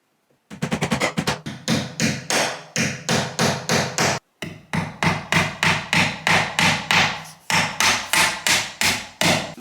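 Panel pins are hammered into a wainscoting panel with a quick series of sharp, loud, close hammer strikes in steady rhythm, broken by one brief pause.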